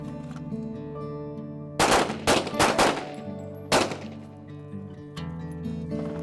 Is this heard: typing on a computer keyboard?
no